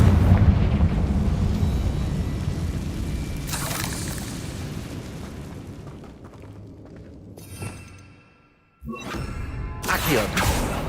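Confringo spell explosion in the video game Hogwarts Legacy, a loud booming blast with rumbling debris that decays over several seconds, followed by a sharp cut and further crashing impacts.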